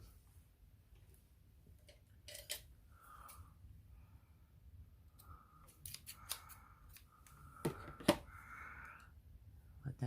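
Scissors trimming the edge of fabric or paper on a handmade clutch journal, with a few quiet snips scattered among small handling noises and close rustles.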